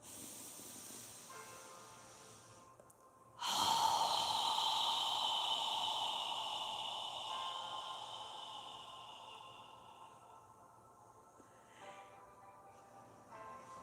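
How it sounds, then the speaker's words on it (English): A long breath pushed out through an open mouth during yoga breathing, a soft breathy hiss that rises abruptly and fades slowly over several seconds, close and quiet with no talking. "when you're ready, exhale through your mouth. Imagine you're fogging a mirror with your breath as you exhale."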